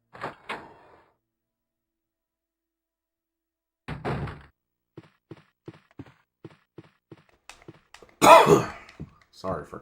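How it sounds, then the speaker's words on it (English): A cough and throat clearing close to the microphone, then a run of soft evenly spaced taps, followed by a loud burst of coughing near the end. "Sorry for coughing into the camera."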